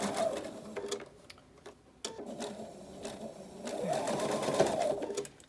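A sewing machine runs in short bursts while back-stitching a six-panel welding cap, its needle chattering rapidly and stopping and restarting, close and moderately loud, with faint talk in the background.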